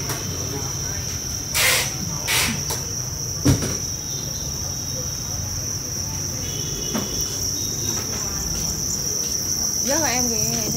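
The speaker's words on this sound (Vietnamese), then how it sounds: "cái thùng dế chuyên lấy trứng cho bà con, dế đẻ ngút ngàn chi chít." Crickets in an egg-laying breeding box chirp continuously with a dense, high-pitched trill, joined by a few knocks and clunks against the container.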